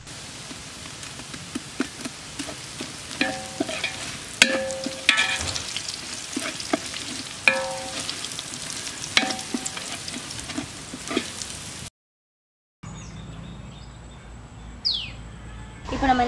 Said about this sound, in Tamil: நம்ம இப்போ அதில் பச்சை மிளகாவை போட்டு வதக்கிப்போம்